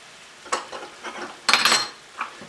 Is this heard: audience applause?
no